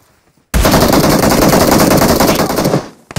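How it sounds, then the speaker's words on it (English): Dense, continuous automatic gunfire from PUBG Mobile rattles loudly for a little over two seconds, then trails off, with no voices over it. "He's getting shot in the back."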